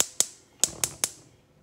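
A kitchen stove burner turned up to medium high for simmering chicken adobo, giving five sharp, close clicks in an uneven rhythm, each with a brief bright ring, over near silence.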